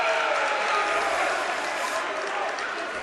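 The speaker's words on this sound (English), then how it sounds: "As we see Joe Rush clapping." Crowd clapping in a high school gym during a boys varsity basketball game, T.C. Howe at Noblesville, a steady broad wash of applause and crowd noise lasting the whole moment.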